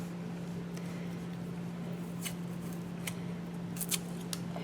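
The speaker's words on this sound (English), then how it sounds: "So I just took some Best Ever Craft tape, and I'm just tearing it into small pieces" Best Ever Craft tape is torn into small pieces, a few quiet, brief ripping sounds spaced out over a faint steady hum.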